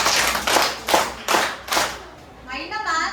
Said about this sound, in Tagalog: Bigyan natin ng 5 palakpak ang group 4.